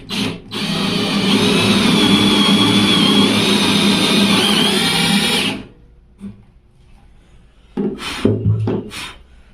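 Power drill boring a hole through plywood covered with transparent tape: a loud, steady high-pitched whine and grinding for about five seconds, then stopping, followed by a few quieter knocks and rattles.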